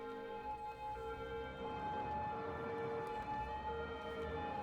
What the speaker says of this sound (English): this ambulance maybe should just go around. Go on, ambulance.